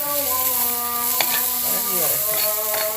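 Green chillies and curry leaves frying in oil in a clay pot, a steady loud sizzle that holds throughout with a few bright crackles and stirring scrapes, no talking.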